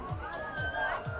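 Busy crowd murmur at Jodd Fairs night market in Bangkok, a steady wash of many distant voices and chatter with no single speaker standing out.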